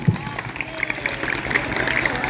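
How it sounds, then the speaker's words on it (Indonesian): Scattered applause from a group of vocational school students at a fire safety drill session, light clapping spread evenly under a noisy room, a voice briefly heard at the start. "tepuk tangan semuanya"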